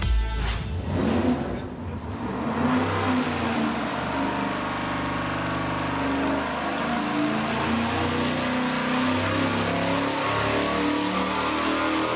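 A car engine on a dyno, being tested with port-matched intake manifold runners, roars loudly and continuously under load, a thick, sustained mechanical drone with no voices over it.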